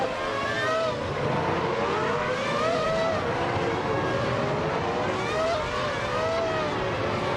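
Racing engines from a Formula One 2000 era video game, a McLaren MP4/15 among the field at the Magione circuit, droning steadily with rising and falling pitch sweeps as cars accelerate and pass, continuous and loud throughout.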